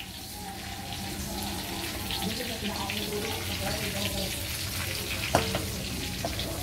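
Chicken frying in a pan for adobo, a steady broad sizzle held under the whole stretch with a few clinks and stirring noises, while people talk quietly in the background.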